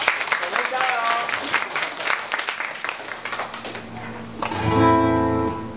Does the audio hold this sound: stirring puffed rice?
no